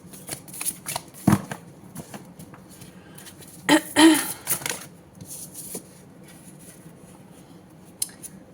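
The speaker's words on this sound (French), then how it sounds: "Oh, j'ai beaucoup trop. Trop de cartes." Tarot cards being shuffled by hand, with a sharp riffle near the start and a longer burst of flicking and sliding card sounds in the middle, close and crisp, amid quiet handling noise.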